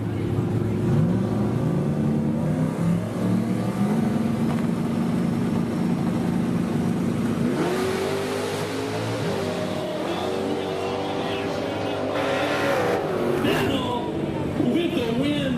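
Drag race car named Handicapped launching at a drag strip, a loud engine drone rising in pitch as it accelerates away, with a voice talking over it throughout.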